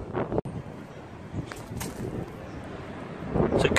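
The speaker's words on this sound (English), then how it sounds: "Bloody windy though." Strong gusty wind buffets the microphone by a beach, a steady low rumble with surging blasts and a brief dropout near the start.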